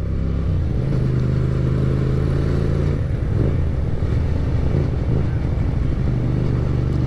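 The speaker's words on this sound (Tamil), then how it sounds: "செம்ம ரம்பிளிங் சவுண்டு தாங்க அதில், அந்த கேளுங்களேன்." A Hyosung GT250 motorcycle fitted with a modified exhaust rumbles at close range, a steady deep idle throb with small revs and clattering pops, no voices.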